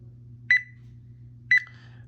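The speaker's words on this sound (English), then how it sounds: "I'm going to grab onto this probe 1 so you can kind of hear how the alarm feature sounds" A ThermoWorks Smoke X2 thermometer's probe alarm gives two quick high double beeps about a second apart over a low steady hum, clear and close with no voices.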